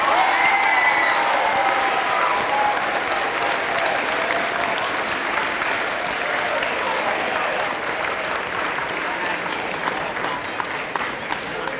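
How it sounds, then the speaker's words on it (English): A school audience at a middle school promotion ceremony applauds, a dense sustained wash of clapping with a few voices and cheers in the crowd, loud and continuous throughout. "give one more round of applause as a congratulations to our class of 2029"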